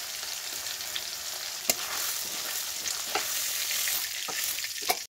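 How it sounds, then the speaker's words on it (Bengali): Paneer cubes frying in plenty of oil in a kadai, a constant close sizzle with a few sharp pops and utensil taps, no voices. "এভাবে একে একে সব পনিরগুলোকে ভেজে তুলব।"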